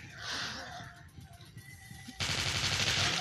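Gunfire in the Android zombie shooter Dead Trigger, a burst of rapid shots with dense noisy crackle, loud and continuous over the last second after quieter game ambience.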